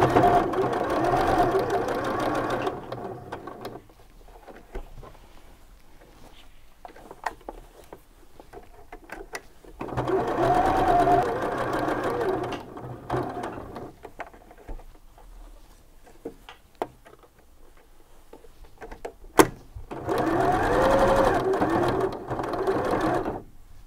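A sewing machine stitches around a shirt cuff 2 mm from the edge, running in three close, loud bursts of rapid mechanical patter separated by quiet pauses with faint handling clicks.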